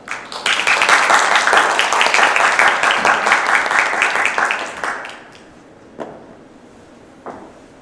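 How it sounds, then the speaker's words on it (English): Audience at a student environmental project presentation applauding to welcome a speaker, a loud burst of many hands for about five seconds that fades to a few scattered claps and quiet room sound. "Let's welcome her with a big round of applause"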